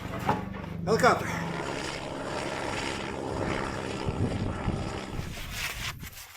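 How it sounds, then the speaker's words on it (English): Helicopter passing overhead at a cold-weather cabin build site, a steady broadband rotor and engine wash holding throughout at moderate distance, with people talking over it. "Helicopter."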